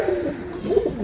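Pigeons cooing inside a wooden pigeon box, a close, low, throaty coo repeated twice in quick succession with no talking.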